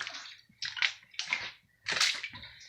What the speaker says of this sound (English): water's pretty deep in here. You can hear it. And it's running right out the door.